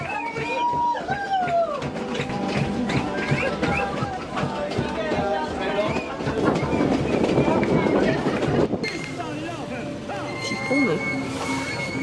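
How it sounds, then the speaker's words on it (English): A train rolls along toward Lake Titicaca in Peru with steady rumble and rhythmic clatter, while voices and other noise mix in throughout, loud and close. "we grab a train and head to the furthest point yet, Lake Titicaca."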